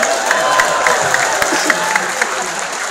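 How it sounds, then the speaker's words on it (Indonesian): A crowd at a public talk on the civil service law in Riau claps for a senior guest, a loud, dense spatter of applause with a few cheers mixed in, over a short burst. "Tepuk tangan untuk senior kita."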